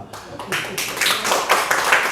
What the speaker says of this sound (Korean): 그래서 이 자리에서 박수 드려도 돼요